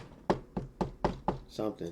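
Knuckles rapping a glass desk: five quick, sharp knocks in an even rhythm, close and distinct, followed by a softer pair.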